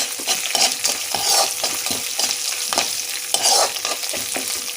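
Turmeric and seasonings for lemon rice fry in a pan with a loud, constant sizzle, broken by repeated scraping stir strokes close by.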